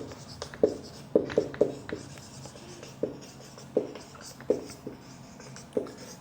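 A pen scratches a quadratic equation by hand during a maths lesson, with short, irregular strokes and taps, some sharp and close, separated by brief pauses.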